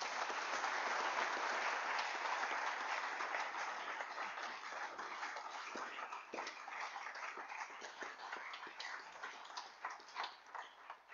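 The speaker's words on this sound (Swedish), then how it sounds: "En applåd!" A congregation at a Baptist annual conference in Sweden applauds, a full, sustained wash of clapping that thins slightly toward the end with some distinct individual claps.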